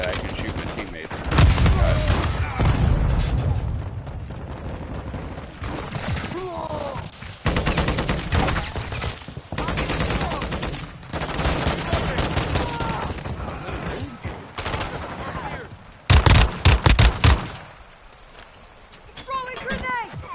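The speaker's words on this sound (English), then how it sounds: "Taking heavy fire." Heavy gunfire in the shooter Modern Warfare 2 DMZ: loud bursts of automatic fire and single shots crackle repeatedly across the whole stretch, with a particularly intense volley late on, while players talk over the fighting.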